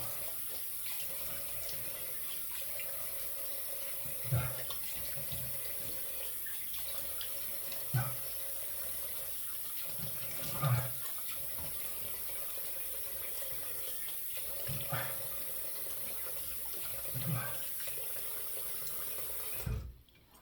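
Tap water runs steadily into a sink while someone rinses their face after shaving, with soft splashes recurring every few seconds under the constant flow.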